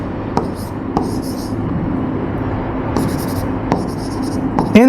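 A pen writing on paper, heard as close, scratchy strokes in two short bursts over a steady background hum, with a voice speaking quietly.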